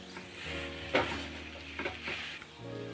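Khoa kheer stirred in a pan, a faint soft sizzle with a few scraping spoon strokes and light clinks, quiet and close.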